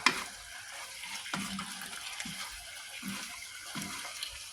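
Long eggplant stir-frying in a pan while being stirred, a soft continuous sizzle with faint scraping knocks of the utensil at irregular intervals, close and quiet.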